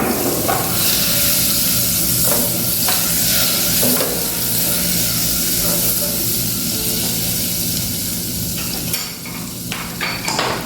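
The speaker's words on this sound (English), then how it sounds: "Let's melt the butter. And I'm going to add a little bit of olive oil." Butter and a little olive oil melt and sizzle in a pan, a loud, close, continuous frying hiss with scraping stir strokes and occasional clinks, nearly free of talk.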